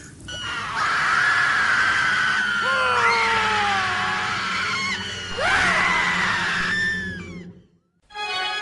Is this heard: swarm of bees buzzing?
no